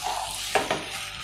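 Chicken sizzles in a pan over a high flame, a steady frying hiss broken by two quick clinks of a spoon stirring against the pan.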